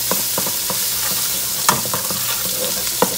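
Tomato paste cooking in hot oil in a pan with oxtail, a loud steady sizzle close by with a few sharp spatula scrapes and clicks, no talking.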